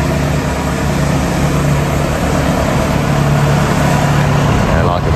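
A tractor reversing a silage trailer into the clamp runs as a loud, steady engine drone throughout, with mixed speech audible over it.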